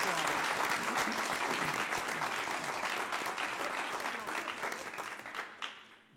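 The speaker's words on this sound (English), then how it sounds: "Let's give her a nice another round of applause." Audience applause for a young woman at a school event, a dense steady wash of clapping that carries on for several seconds and fades slightly toward the end.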